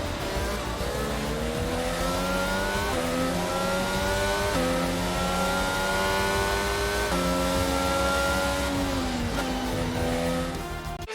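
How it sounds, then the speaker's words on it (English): Formula 1 car in the F1 22 video game driving back slowly after the Canadian Grand Prix, a loud steady engine drone with rising and falling pitch as it shifts through gears, continuous for the whole stretch with no talk. "Take care of the car on the way in."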